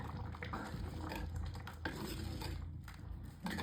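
A spoon stirs roasted coconut paste into a pot of sambar, making clinks and scrapes against the metal vessel over a faint bubbling simmer, close up and with no voices.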